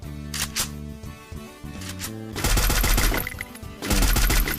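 Rapid automatic gunfire in a mobile shooter game, dense bursts of shots in two heavy volleys with mechanical clicks between them, loud and close.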